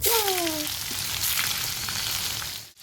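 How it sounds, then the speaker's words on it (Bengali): Whole cumin, cinnamon and bay leaf hit hot oil in a home kitchen, giving a loud continuous sizzle and crackle up close, with a brief tonal squeak at the start and a short stir near the end. "এখন আমি সম্বার দিয়ে দিলাম জিরে, দারচিনি এবং তেজপাতা"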